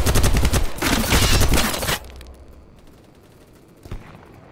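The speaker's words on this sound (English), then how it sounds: "I'm bringing the heavy machine gun." A heavy machine gun fires in a video game in a loud sustained burst of rapid close shots for about two seconds, then cuts out, leaving a quieter tail and one more distant thump.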